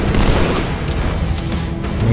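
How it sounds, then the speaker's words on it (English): A grenade blast in Halo 2, heard as a loud, dense, low boom that holds a rumbling roar for about two seconds, with no talking. "throw a grenade there"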